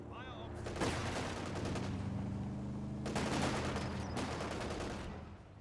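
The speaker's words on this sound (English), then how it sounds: "MG42 setting it up, Pioneers building some sandbags. Cool volume, push way forward. Get fire on that infantry!" Bursts of MG42 machine-gun fire in Company of Heroes 2, in three loud, rapid rattling volleys separated by short pauses, over a steady low battlefield rumble.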